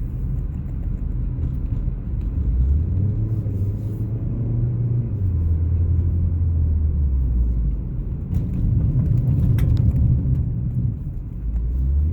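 Ford ST sports car engine while driving: a steady low rumble with a rising and falling engine drone as it accelerates and settles, heard from inside the car.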